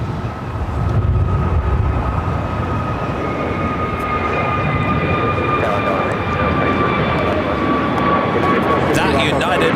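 Jet airliner taking off from runway 25 right at LAX, a loud sustained roar of engines with a steady whine, over intermittent radio talk.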